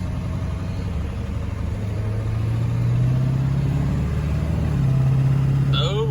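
Mustang skid loader engine running during a service call, a steady low rumble that rises in pitch as the machine shifts, near and continuous, with a person talking over it.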